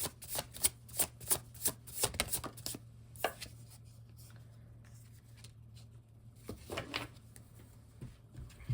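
A deck of oracle cards is shuffled by hand in a quiet room. A quick run of crisp riffling snaps opens the clip, then a pause, then a few softer shuffles near the end.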